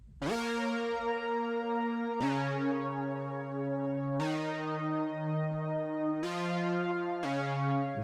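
An Analog Lab synth lead using the Fish preset plays long sustained notes with bright, buzzy harmonics, changing pitch every couple of seconds, close and alone with no voices.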